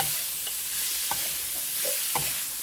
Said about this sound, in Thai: หอมเลยหอมขึ้นมัน คั่วให้หอมก่อนนะครับ